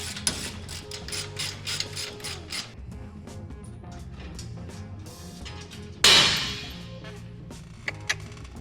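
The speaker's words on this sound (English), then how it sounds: "These are 3/8 bolts to make sure my ratchet's going the right way." Ratchet clicking rapidly as it tightens 3/8 bolts on a motor plate bolted through chassis tabs of a Super Dirt Late Model race car frame, a close burst of clicks early on, then quieter shop noise and a sharp metallic clatter.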